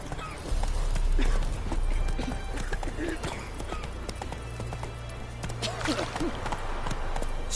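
Horse hooves galloping in The Witcher 3, a rapid steady clip-clop close by and fairly loud, with the horse snorting and in-game speech over the running.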